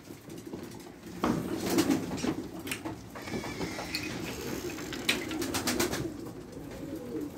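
Kürenk pigeons cooing inside their coop, a low murmuring coo repeating through the whole stretch, with some bird flutters and shuffling nearby and brief background noise.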